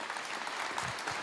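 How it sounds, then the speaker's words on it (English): Audience applause inside a fire station during a public speech in Moncton, New Brunswick, faint and distant-sounding clapping across a brief moment. "And big round of applause to the men and women in uniform"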